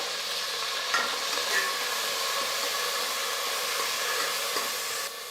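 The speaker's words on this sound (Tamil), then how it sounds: "புதினா வந்து எண்ணெயில் சேர்த்து வதக்கும் போது தக்காளி சாதம் வந்து அவ்வளோ நல்லாயிருக்கும்" Mint leaves sauté in hot oil for tomato rice, producing a continuous, even hiss of sizzling with faint stirring scrapes throughout.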